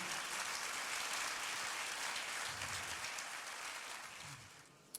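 A church congregation applauds for the Lord during a Spanish-language worship service, a soft, steady wash of clapping that thins and fades away near the end.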